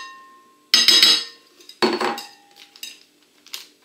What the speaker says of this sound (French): On va commencer par les œufs, que l'on va fouetter un petit peu.